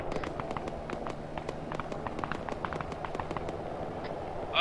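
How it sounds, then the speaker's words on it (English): Gunfire from the military shooter ArmA 3, a rapid string of distant sharp cracks and pops over a steady background hum, heard from a building position during a firefight. "Shots north."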